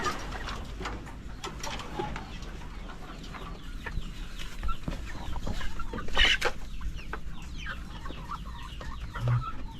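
Chickens cluck and murmur at close range over a steady farmyard background, with scattered short calls throughout; some of the birds are sluggish and unwell.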